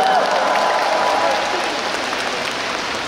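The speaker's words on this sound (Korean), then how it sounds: "박수 한번 주세요" A large concert crowd at a Daegu pop show applauds and cheers in a broad, continuous wash that slowly tapers, with a voice briefly audible over it.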